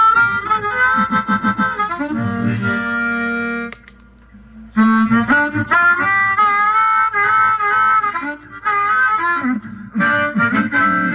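Electric guitar run through a Joyo American amp simulator set for a clean, Fender-like tone, playing loud sustained chords and melodic lines with one brief pause midway, no voices.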